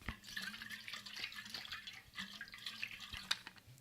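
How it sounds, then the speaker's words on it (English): Close, soft water trickles from a tap to wet a small cloth handkerchief, a quiet steady splash with faint drips in a calm setting. "let me get some water."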